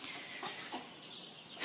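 Chickens clucking inside a coop at morning feeding time, a steady mix of overlapping hen calls close by with a few brief louder squawks.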